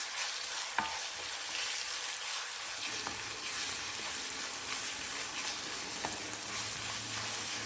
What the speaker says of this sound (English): add 2 finely chopped onions and sauté until they are beautifully browned